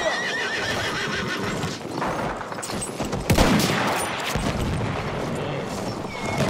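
Horse whinnying in the video game Battlefield 1 amid battle, a clear neigh rising over clip-clopping hooves and bursts of gunfire, with a sharp shot cracking in the middle and combat noise continuing throughout.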